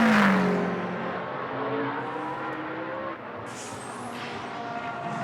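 GT race cars run laps in Blancpain Sprint Series free practice at Moscow, an engine roaring loudly at first then fading, with further cars droning past at a distance and a brief high whine.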